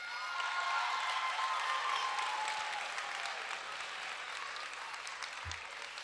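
Students applaud and cheer at an education announcement event, a broad wash of crowd clapping with faint shouts, steady throughout and somewhat distant, with a brief low thump near the end.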